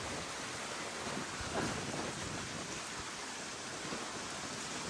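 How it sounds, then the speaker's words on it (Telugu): Heavy rain pours steadily, a dense continuous hiss with a faint low rumble underneath, no voices. "ఘోరంగా పడుతుంది వర్షం అయితే"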